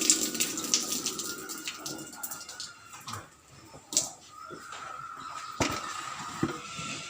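Water splashing and pouring while a dairy cow's udder is washed clean, intermittent close gushes and drips with a few sharp knocks, no voices.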